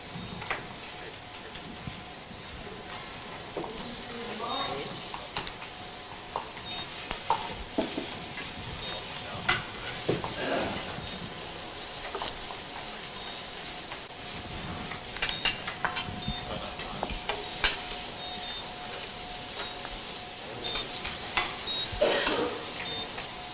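Eggplant slices sizzle steadily in a hot pan with occasional stirring scrapes, continuing throughout, while a voice speaks faintly in the background.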